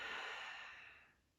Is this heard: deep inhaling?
yes